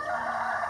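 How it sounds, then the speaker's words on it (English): A rooster crows nearby in a short, steady, sustained burst of bright call, heard alone outdoors near birds nesting above water. "I can hear the rooster behind me making a very nice call"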